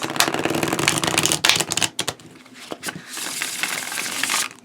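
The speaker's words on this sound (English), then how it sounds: "it's a good shuffler, like I knew it would be because the cardstock is flexible" A flexible-cardstock tarot deck being riffle-shuffled up close, with dense rapid papery flutters in two loud bursts separated by a brief pause, then a steadier softer riffle.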